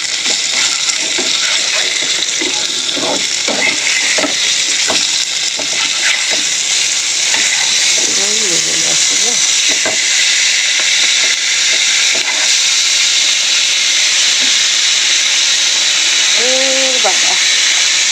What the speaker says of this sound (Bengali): দুবারে ভাজতে হবে, একবারে হবে না মাছগুলো ভাজা